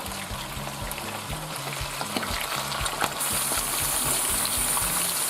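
About ten raw chicken pieces sizzle steadily in a hot pan for a Hungarian paprikash, a continuous close frying hiss with faint trickling and stirring, no voices.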